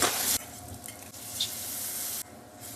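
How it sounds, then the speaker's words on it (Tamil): Paneer hits the hot oil in a pan with a loud sizzling hiss that drops off quickly. A softer, steady fry follows, with a brief scrape or clatter before another sharp drop in the sizzle near the end. "ஸோ பேன் சூடாயிருச்சு. பன்னீரை வந்து இதுக்குள்ள கொட்டிடலாம்."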